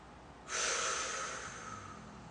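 A slow breath in through the nose and out through the mouth during a calming exercise, one long airy exhale-like swell starting after a brief pause and fading gradually, close and fairly soft, with no talking.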